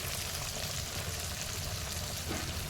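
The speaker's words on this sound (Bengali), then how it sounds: "কুচনা পেঁয়াজগুলো সবই দিয়ে দিলাম দিয়ে একটু ভালো করে ভাজা করব" Chopped onions frying in a pan for a home-cooked dish, a steady soft sizzle and crackle that continues throughout, fairly quiet and close, with no talking.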